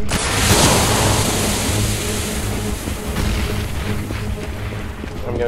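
A grenade blast in Counter-Strike: Global Offensive (beta) on the Dust 2 map, heard as a loud broadband boom that rolls on among steady game noise and faint player chatter.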